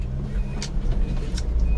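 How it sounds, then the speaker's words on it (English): A Subaru Sambar mini truck backs down into mud, its small engine a steady low rumble close by, with a couple of brief hissing splashes or squeaks on top. "I'm gonna back down in this mud here and get this clean truck muddy"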